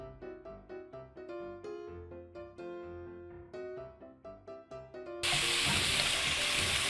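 Sausage (linguiça) begins sizzling loudly in a pot for a one-pot mixed lunch, a steady bright hiss that cuts in abruptly after a stretch of plucked background music.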